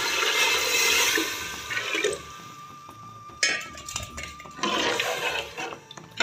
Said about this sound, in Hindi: अभी इसमें पानी ऐड करती हूँ